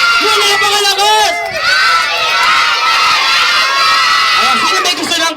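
At a child's first birthday party, a crowd of children and guests shouts and cheers at full volume in a sustained, high-pitched roar of overlapping voices that barely dips before rising again.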